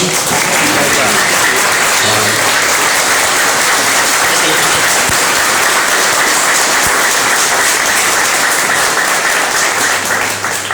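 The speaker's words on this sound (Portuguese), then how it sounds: "o aplauso aí já diz" Sustained loud applause from an audience at a spiritual retreat after a talk, dense clapping filling the whole stretch without letting up, with no clear speech over it.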